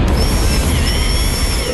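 A loud, steady grinding whir of a drill runs continuously up close, dense and rumbly with a faint high whine on top.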